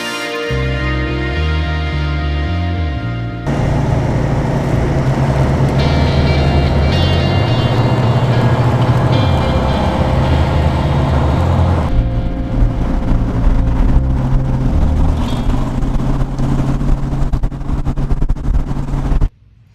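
Car driving through mountain roads gives a loud, steady engine drone and road rumble that runs for the whole stretch, swelling and shifting with occasional changes in engine pitch.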